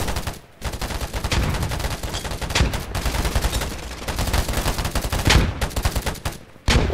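Sustained automatic gunfire in the early-access shooter Polygon, rapid loud bursts running almost nonstop across the clip, broken by a couple of brief pauses, with no talking.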